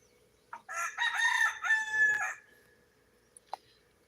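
A single rooster crows once, a loud, close, drawn-out call that tails off, followed by a couple of brief clicks in an otherwise quiet setting.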